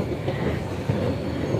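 Singapore MRT train on the purple Northeast Line rumbling steadily underground, a continuous low rolling roar heard from inside the carriage with no talk.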